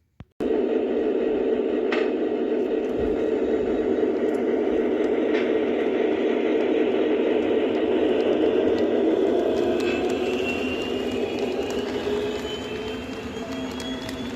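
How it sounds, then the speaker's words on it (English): A model train runs continuously along its track, a steady whirring rumble with faint clicks, fading slightly toward the end. "Alright, now that we've got the trains set up, let's run them"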